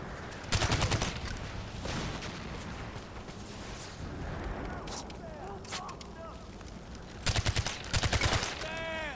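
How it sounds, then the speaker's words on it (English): Rapid bursts of automatic gunfire in the video game Far Cry 4, one short burst early and a longer rattling volley near the end, with someone talking between them. "Oh, god damn it, I just shot my fucking ammo."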